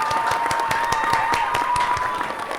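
Rhythmic clapping for a guest on the Nordestinos pelo Mundo podcast, evenly spaced claps from only a few hands over a steady tone, loud and close throughout.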